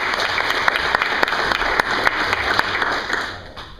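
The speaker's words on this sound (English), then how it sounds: "Clap for Ben." A classroom audience claps at a green belt testing, a steady patter of many hands held for several seconds before fading near the end.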